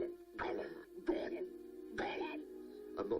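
A human voice imitates a cat coughing up a fur ball, making four rough, throaty hacking bursts with short pauses between them, close and fairly quiet.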